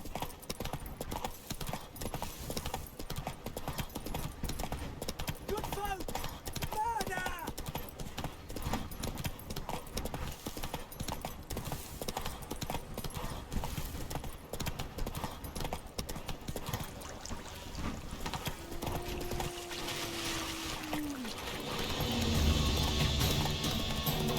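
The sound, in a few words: horse Roach hooves trotting in video game The Witcher 3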